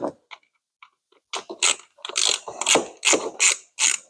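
Ratchet clicking as it loosens a T20 fastener on the ignition coil wiring of an Audi A8, a few sparse clicks followed by a run of loud, rapid rhythmic ratcheting bursts, close up with no talking.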